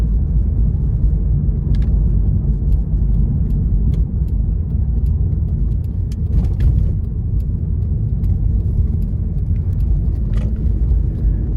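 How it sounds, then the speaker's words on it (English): A 2006 Cadillac XLR roadster's 4.6 Northstar engine runs in a steady, loud low rumble from inside the cabin, with no voices over it. "the powertrain, it still purrs like new"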